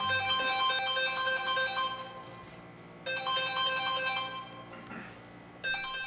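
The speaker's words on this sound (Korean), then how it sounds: "전화가 온 모양인데요?" Phone ringtone signalling an incoming call, a bright melodic electronic tune that plays in repeated bursts with short gaps between them, fairly close and clear with no talking.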